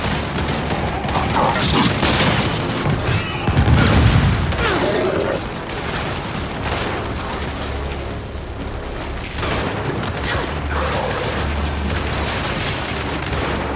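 Gears 5 campaign combat: frag grenade blasts and bursts of gunfire, loud booms and mechanical clatter in dense layers, with shouted character voices mixed in.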